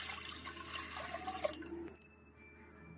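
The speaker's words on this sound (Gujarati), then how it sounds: "તો હવે આપણે 2 ગ્લાસ પાણી નાખીશું" Two glasses of water poured from a glass into a pressure cooker holding washed dal, a brief splashing gush that stops abruptly, leaving a quiet room tone; faint and nearby.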